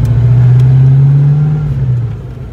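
A 5.0 V8 Fox Body Ford Mustang pulls away with a loud, steady low engine drone that holds strongly for about two seconds, then eases slightly as it moves off; no one speaks.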